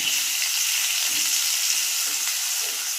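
Onion drops into a frying pan with tomato for a sour-spicy green tomato dish, bringing a loud, steady hiss of hot oil with soft stirring scrapes underneath and no voices.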